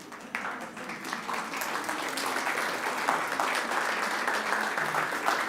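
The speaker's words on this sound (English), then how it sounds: "How about a big round of applause for them and for Annie" An audience at a gathering applauds for a committee being called up, dense clapping that starts abruptly, swells quickly and then holds steady across the room at a moderate level.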